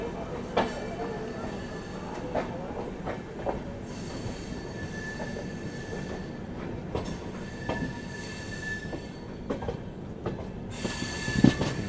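The Sairang Rajdhani Express, hauled by a WAG-5 electric locomotive, rolls along with a steady rumble, sharp metallic wheel squeals and intermittent clicks and clatter from the rails.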